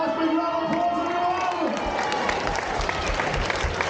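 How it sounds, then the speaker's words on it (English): Crowd applause and cheering fill the stands at a car stunt show at Movie World, steady and loud throughout, with an announcer's voice and a held musical tone over the first half. "Let's give him a nice big round of applause,"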